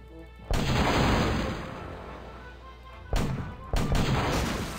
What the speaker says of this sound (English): Alright, cannons have a little more oomph to them now.